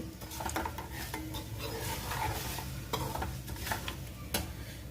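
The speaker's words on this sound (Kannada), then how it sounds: "ಬಿಸಿ ಎಣ್ಣೆ ಇರೋದಕ್ಕೆ ಇಂಗು ಮತ್ತು ಅಷ್ಟು ಪುಡಿ ಆಫ್ ಮಾಡೇ ಹಾಕೇನಿ" Asafoetida and spice powder tipped into hot oil with the heat switched off for a red chilli chutney, a continuous close sizzle broken by scraping stir strokes and light utensil taps.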